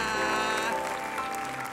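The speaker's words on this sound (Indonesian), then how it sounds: "Tepuk tangan dong" A studio audience at an Indonesian comedy talk show claps briefly, mixed with a sustained musical tone.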